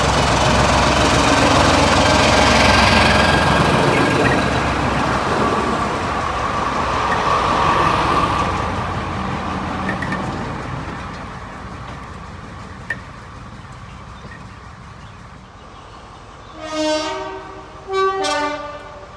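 A Class 14 diesel locomotive departs Highley toward Bridgnorth on a heritage railway, its engine a loud, steady drone that slowly recedes, ending with two short horn blasts.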